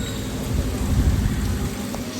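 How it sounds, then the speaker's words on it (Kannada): Steady rain falls near the Sauparnika river by a bridge, a dense, continuous hiss with low rumbling under it, close and unbroken for the whole stretch, with no talking. "ಕಂಟಿನ್ಯೂ ಮಳೆ ಬರ್ತಾನೆ ಇದೆ"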